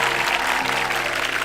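Brief burst of studio audience applause on an Indonesian TV talk show, a dense, even wash of clapping throughout.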